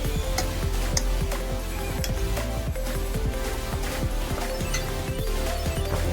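Spinach and dal stirred in a pan as it cooks, repeated scraping and clinking strokes over a constant sizzle, fairly close and steady.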